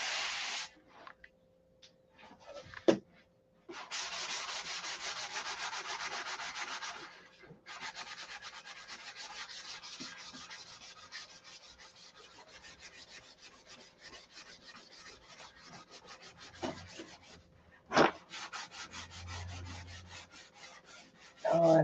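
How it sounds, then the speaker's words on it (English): Hand sanding on the sealed surface of a Sig Magnum model airplane, quiet rhythmic rasping strokes of sandpaper, first a long steady scrub, then many short quick back-and-forth passes with brief pauses and occasional knocks. "Put it on, sand it off."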